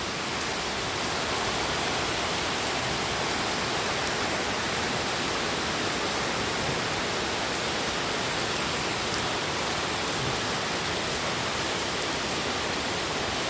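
Heavy rain falls continuously, a dense, even hiss with no letup and no talking.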